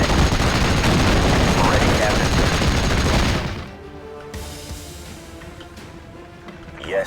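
Dense rattling rifle and machine-gun fire from the Normandy 1944 strategy game Steel Division: Normandy 44 rolls on continuously for a few seconds, then breaks off into quieter distant pops and a brief voice.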